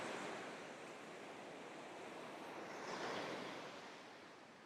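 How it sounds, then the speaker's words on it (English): Ocean surf at a coastal viewpoint in Ecuador, the westernmost point of South America, makes a steady broadband wash with a gentle swell as a wave breaks, distant and soft, with some wind. "waves look amazing"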